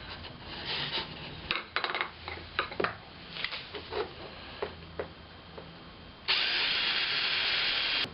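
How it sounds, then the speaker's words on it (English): A drill bores 3/32-inch screw holes into a 2x4 for a wooden camera tripod, starting with scattered scraping and tapping contacts, then settling into a loud, steady whirring burst near the end, close up with no talk. "use a 3/32 drill bit to drill screw holes through these holes into the 2x4"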